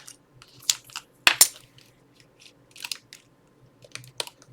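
Scissors snipping out a paper gift tag: a handful of short, sharp crisp clicks and crunches at irregular intervals, close by and fairly quiet, with no talking.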